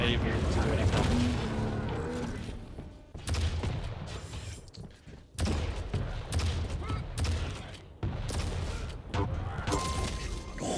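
Rocket launcher blasts and a railgun shot in a Quake Pro League duel: rapid bursts of explosive gunfire and crashing impacts in loud clusters, broken by short quieter gaps, with an excited commentator talking over the action.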